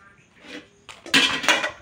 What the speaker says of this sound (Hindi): बर्तन धोते हुए